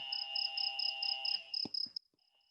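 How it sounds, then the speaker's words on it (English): Crickets chirp in rapid, evenly spaced high pulses over a steady shrill drone, then fall silent abruptly, followed by near-quiet. "crickets"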